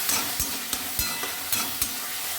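Spices get stirred into vegetarian khichuri frying in a pot: a soft continuous sizzle punctuated by about six sharp spoon scrapes and knocks in quick succession, close up, no voices.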